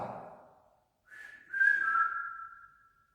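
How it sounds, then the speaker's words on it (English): A single person whistles inside an old hospital chapel, a thin sustained tone that rises and holds for about two seconds after a brief breathy start, clear and alone in a quiet room. "If I whistle, could you whistle back?"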